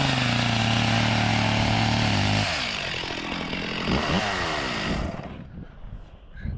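A chainsaw ridden across ice runs at a loud, steady buzz, then its revving wavers and fluctuates before dropping away near the end, with scraping and rumbling underneath.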